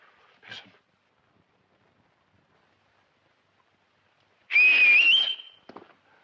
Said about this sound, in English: But I did learn how to whistle again.